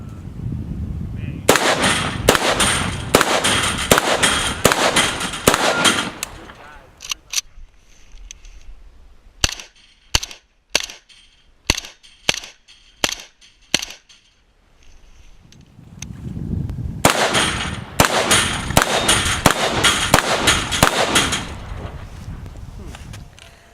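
A string of sharp, evenly spaced cracks from an Arsenal SLR-104FR AK-74 rifle at a shooting range, set between two long stretches of loud, dense noise.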